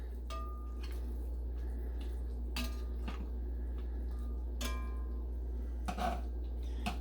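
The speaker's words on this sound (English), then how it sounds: "Give these a little flip again." Chicken pieces are flipped in a Dutch oven, sounding as several sharp metallic clinks and taps of utensils against the pot over a low steady hum, with no talking.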